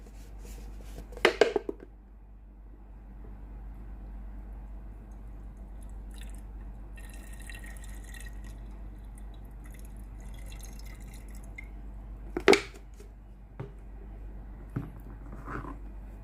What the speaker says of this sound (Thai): ให้เราเทน้ำเข้าไปในส่วนของตัวหม้อต้มนะครับ น้ำประมาณครึ่งแก้วนะครับ